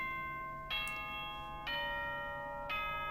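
An announcement chime from the Danganronpa 2 video game rings as three bright, sustained electronic tones in succession, each note struck and ringing clearly over quiet background.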